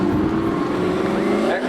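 A drag race car at Seekonk Speedway spectator drags rolls across the finish line with a loud, close engine roar that holds steady, then eases slightly near the end.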